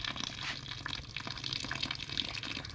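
Water gushes steadily out of a drilled incense burner at a naga shrine well, a close, continuous splashing and trickling rush with no voices.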